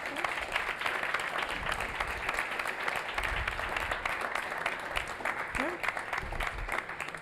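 Audience applause rings out for a prize winner at a machine learning for materials science workshop's closing ceremony, steady clapping throughout with a brief spoken word over it.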